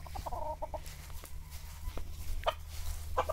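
A farmyard chicken clucks near a cacao plant in short bursts of a few quick notes, then a pause, then more scattered clucks over a low steady background hum.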